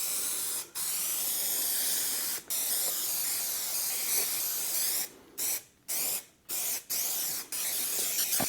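3M Super 90 spray adhesive hissing from a can onto fleece for a diesel Beetle restoration, a long steady close spray broken by short pauses and then several quick bursts.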